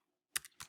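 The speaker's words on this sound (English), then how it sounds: "So I type the number in here" A number being typed on a computer keyboard: after a short silence, a few quick, close key clicks in an uneven burst.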